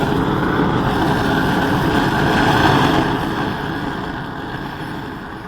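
A Saker multi-use gas torch burns with a steady, loud, broadband roaring hiss that holds constant, then eases slightly lower toward the end.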